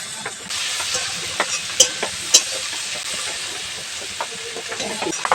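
Chopped tomatoes dropped into a pan of frying spiced suji and stirred, a steady loud sizzle and steam hiss throughout with a few sharp clinks and scrapes of the spoon, faint voice underneath.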